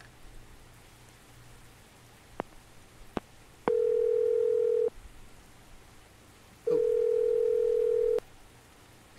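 In the Stagefreight horror video game, a telephone rings twice as long, steady electronic tones over quiet background hiss, preceded by a few faint clicks.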